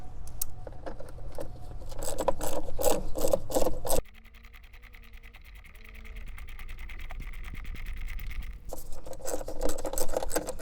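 Rapid ratcheting clicks of a socket wrench with an 8mm socket and short extension loosening the recessed battery hold-down on a 2015-or-later Ford Mustang, close and steady in two bursts around a quieter stretch.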